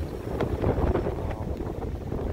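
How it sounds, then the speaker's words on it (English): Strong wind buffets the microphone on a windy day near the water, making a steady, heavy low rumble with gusty pulses throughout. "it is rather windy"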